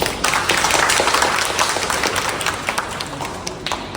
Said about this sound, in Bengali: আমাদের সবাইকে সবার জন্য একটা হাততালি দিয়ে অনুষ্ঠানটা শুরু করা হবে।